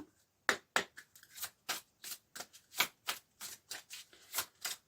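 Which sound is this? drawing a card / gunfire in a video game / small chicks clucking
drawing a card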